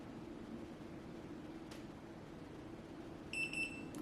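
A Eufy smart lock gives a quick pair of high electronic beeps on finishing a factory reset, clear over a low steady room hum.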